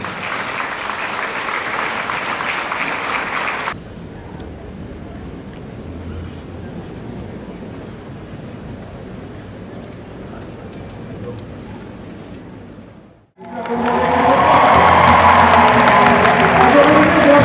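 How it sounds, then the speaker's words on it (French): Graduates at a UNIFA diploma ceremony receive warm applause: loud clapping at first, a quieter stretch of lighter clapping and room noise, then a brief drop before a strong, full swell of applause returns. "Je vous prie de les applaudir encore chaudement,"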